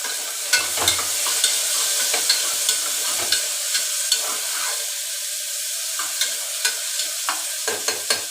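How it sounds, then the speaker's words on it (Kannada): Tomato frying in a pan with steady sizzling and repeated metal-spoon stirring scrapes and taps, close and fairly loud, no voices. "ಇವಾಗ ಫ್ರೈ ಮಾಡ್ಕೊಳ್ಳೋಣ. ಈಗ ಇದಕ್ಕೆ ಟೊಮೊಟೊ ಹಾಕ್ಕೊಳ್ತಾ ಇದ್ದೀನಿ."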